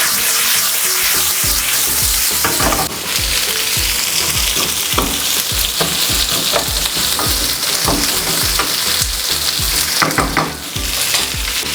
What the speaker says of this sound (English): Add your curry leaves, nice splatter. Then you're going in with your onions.